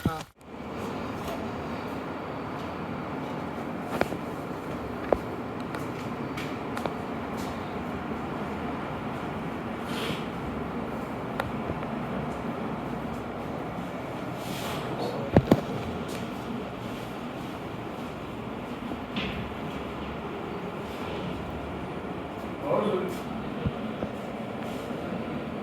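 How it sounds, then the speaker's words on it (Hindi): Down Shalimar Express passing through SherShah Junction, a steady rumbling train roar that holds for the whole stretch, with a few sharp clanks and squeals of wheels on the rails and faint talk in the background. "ये डाउन शालीमार एक्सप्रेस GU40"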